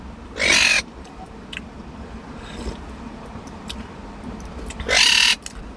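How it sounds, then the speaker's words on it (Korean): Two loud caws separated by a few seconds of quiet outdoor background, with a fainter call in between. "알았다 까마귀 온다 까마귀."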